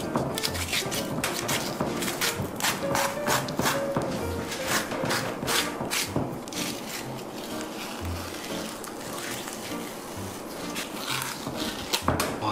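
An oversized knife works into the hard skin of a tuna of over 150 kg, giving a steady run of scraping, knocking and clattering blade and metal sounds throughout, with no talk.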